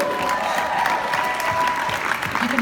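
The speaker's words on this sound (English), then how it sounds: "You can hear them, they're over there, our cheering section" A cheering section of a summit audience claps steadily, a dense patter of applause with faint whoops, filling the room without pause.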